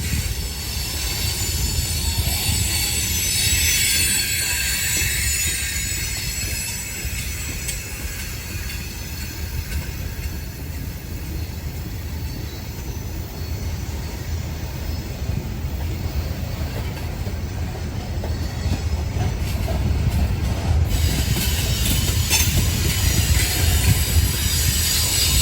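A loaded freight train grinds up a roughly 1% grade on the old Rat Hole Line in Kentucky, a steady, loud rumble of rolling cars with persistent high wheel squeal and hiss throughout, no voices.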